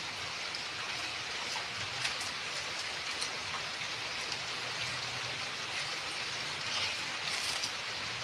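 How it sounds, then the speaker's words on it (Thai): Steady rain falls outside, a dense even hiss with scattered louder drops pattering on nearby surfaces, continuous and fairly close throughout with no talking. "ฝนข้างนอกตกนะ"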